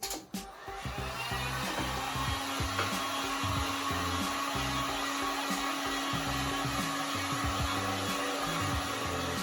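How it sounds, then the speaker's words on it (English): Plugged-in heat gun switched on and blowing hot air over scooter grip tape, a loud, steady whooshing roar that starts abruptly and holds constant without speech. "All you gotta do, plug the heat gun in, turn it on."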